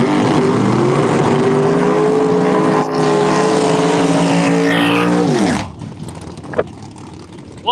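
Bracket racing cars at Empire Dragway roar loudly off the line together, a sustained high-revving engine blare that winds up in pitch, then cuts off abruptly and fades into a distant drone.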